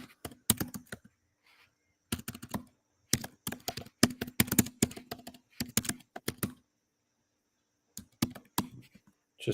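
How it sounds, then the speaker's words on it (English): Bursts of rapid clicking from a computer keyboard being typed on up close, coming in several separate runs with short pauses between them and no voices. "Just typing in some"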